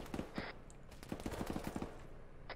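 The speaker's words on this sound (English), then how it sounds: "Shots north." Distant gunshots in the military shooter game ARMA 3: a quiet, scattered volley of faint cracks, a few early and then a quicker cluster in the middle, heard far off over low background noise.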